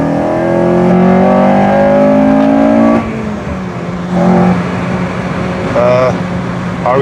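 Honda Civic Type R FN2 with a K20 VTEC engine driving on the Nordschleife, its steady, loud engine note rising in pitch with revs and cutting back around midway, running alongside occasional talk inside the car.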